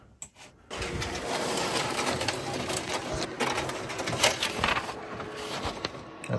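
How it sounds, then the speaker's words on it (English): A printer runs a photo backdrop print, starting with a short mechanical clunk before settling into a steady, buzzy whirring drone with faint rhythmic ticking, close and moderately loud, with no one speaking. "So I'm just going to print this."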